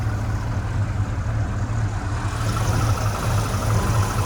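A 1979 Ford Ranchero's 351 V8 with a new carburetor idles with a steady, even low rumble and a constant mechanical hum, heard alone and close without any talking.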